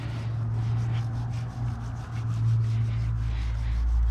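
Continuous close rubbing and scrubbing as a kerosene-soaked rag works along a Suzuki GSXR 1000 motorcycle chain, with a brief dip in the middle and a low hum underneath.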